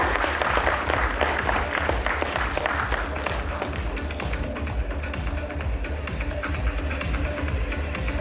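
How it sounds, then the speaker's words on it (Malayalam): Sustained applause from a large audience at a stage event celebrating the Rorschach film, with crowd shuffling and murmured voices beneath steady, loud clapping throughout. "നല്ലൊരു കൈയടിയാവാം എല്ലാവരും ചേർന്ന്"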